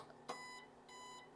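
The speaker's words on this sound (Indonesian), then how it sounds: "Nah, dia ini bunyi beep." Two short electronic beeps from a small power inverter buzzer, evenly spaced, fairly faint against a quiet background.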